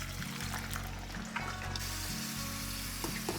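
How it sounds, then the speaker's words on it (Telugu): Pieces of bitter gourd crackle as they deep-fry in hot oil, a dense, close sizzle that runs through the whole short stretch over a low, pulsing background hum. "నూనెలో వేసి బాగా వేగనివ్వాలి."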